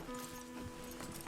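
A horse's hooves clip-clop at an even walking pace in a Rockstar western video game, soft and fairly distant beneath a faint musical drone.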